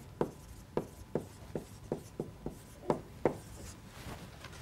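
Chalk or marker strokes on a lecture board, a series of about nine sharp scratchy taps in an uneven rhythm, close and fairly clear in a quiet room with no talking.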